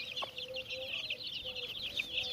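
Chickens on a Turkish farm flock, including chicks, clucking and chirping in a busy, continuous chatter at moderate distance, with one brief louder squawk near the start and no voice.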